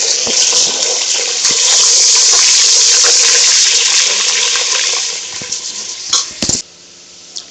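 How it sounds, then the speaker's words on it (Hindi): Garlic and ginger fry in hot oil with curry leaves for a fish curry, a steady loud sizzling hiss that gradually thins out into scattered crackles and spits before dropping away. "देखिए इसमें हमने लहसुन अदरक डाल दिया"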